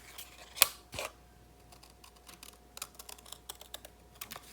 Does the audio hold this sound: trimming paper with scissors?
yes